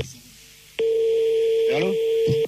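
Telephone line during a radio call-in, a steady loud tone on the line after a click, with dialing beeps and a brief voice-like sweep partway through.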